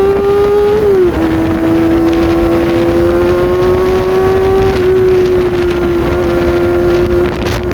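A Kawasaki Ninja ZX-25R motorcycle revs loud and steady under wind noise, its high-pitched engine note dropping sharply around the one-second mark and again near five seconds as the quick shifter clicks up through gears without the clutch.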